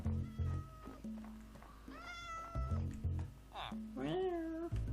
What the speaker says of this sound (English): Kitty cats.